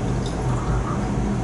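Liquid poured from a laboratory flask into a glass beaker, a soft continuous trickle lasting a moment and heard up close with no talking.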